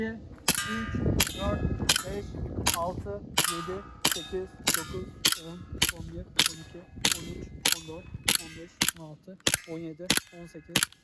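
Sharp CO2-powered Desert Eagle BB pistol shots crack out one after another, about twenty in all at a steady, fairly quick pace, each a bright metallic snap with a short ringing tail, loud and close with no talking.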